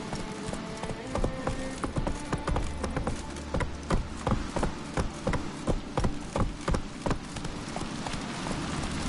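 Hooves of the horse Roach in The Witcher 3, a rhythmic clip-clop of trotting steps, close and fairly loud, repeating steadily throughout with game ambience underneath.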